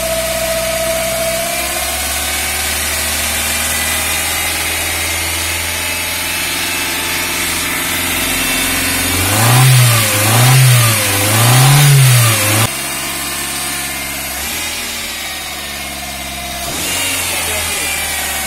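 A Toyota 4E car engine idles steadily on fuel, then revs up and down three times in quick succession before dropping back to idle, loud and close.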